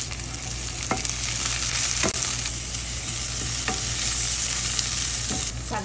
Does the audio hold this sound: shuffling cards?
no